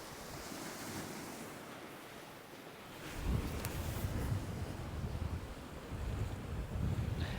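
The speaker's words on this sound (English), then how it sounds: "lots of wind today" Strong wind buffets the microphone while waves break and surge along the Bristol Channel shore in winter, a steady loud roar that swells after the first few seconds.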